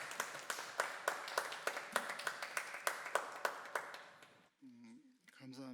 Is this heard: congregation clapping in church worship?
yes